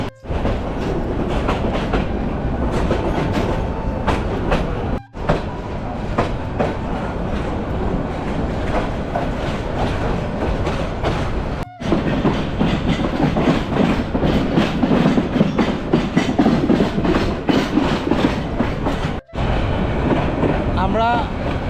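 A crowded Egarosindhu local train rolls from Airport toward Kamalapur in Dhaka, its interior filled with a steady loud rumble and rhythmic clickety-clack of wheels over rail joints, with voices murmuring throughout.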